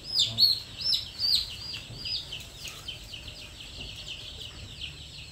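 A cluster of baby chicks peeps with high, shrill chirps, busiest at first and then thinning, heard faintly over a quiet background.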